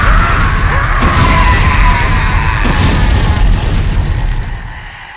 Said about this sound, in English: I knew you would say that, so I shot a homing missile!